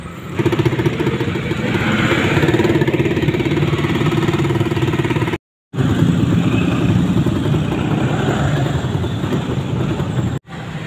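A loud motorcycle engine drones steadily while riding, with a brief cut-out partway through.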